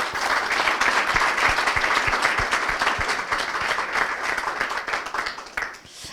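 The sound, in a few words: audience applause for a singer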